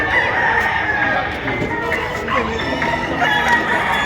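A rooster crows loudly and close by at a poultry market in Padre Garcia, Batangas, its long harsh call rising over background chatter and market bustle.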